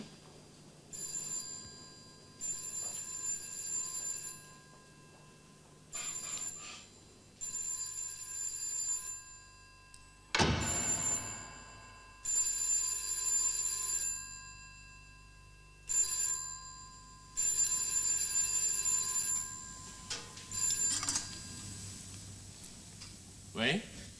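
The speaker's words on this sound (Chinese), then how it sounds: "入边嘅电话响啊" A telephone in an inner room of an office rings in repeated bursts of bell tone separated by short gaps, heard at moderate distance with people talking over it.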